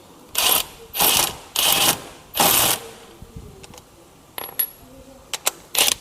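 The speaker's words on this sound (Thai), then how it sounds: "ผมจะใช้ตัวบล็อก ตัวนี้นะครับขนาด 400นิวตันเมตรนะครับ ขันนะครับ" A socket wrench rated at 400 Nm tightens a bolt on a front engine pulley, giving four bursts of quick ratcheting clicks, followed by softer scattered metallic ticks and taps, close up with no talking.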